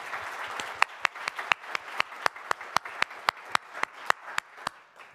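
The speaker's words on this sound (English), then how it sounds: "Maybe another round of applause for all our speakers." Conference audience at an entomology session applauding the speakers, a steady wash of clapping with sharp individual claps standing out, fairly close and sustained throughout.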